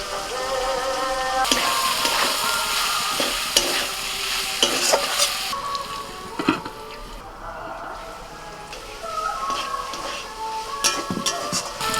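Chopped onion and capsicum stir-fried in a pan for a roll filling, a continuous sizzle broken by repeated scraping and clinking of a spatula against the metal.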